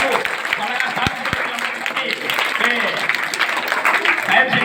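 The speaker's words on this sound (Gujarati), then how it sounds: "સાહેબ જોરદાર તાળીઓથી સાહેબના સન્માન આપણે" An audience at a school farewell ceremony for a retired principal claps steadily, a dense, even wash of applause sustained throughout with a couple of sharp close thumps early on.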